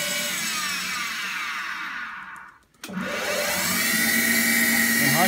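A Deckel milling machine in a home workshop runs its spindle at low speed, a steady loud motor whine that dips briefly to near silence as it stops and restarts, then hums on.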